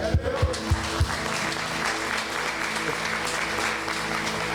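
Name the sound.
congregation applauding in church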